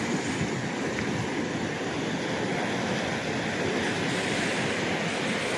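Ocean waves wash steadily against the rocks at Trafalgar tidal pool, a continuous broad roar of surf mixed with wind buffeting the microphone.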